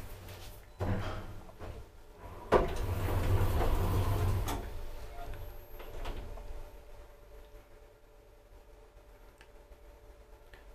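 An old modernized Kone traction elevator in a building: several sliding door thumps and clunks near the start, then the car running with a low steady hum that fades to a quiet drone.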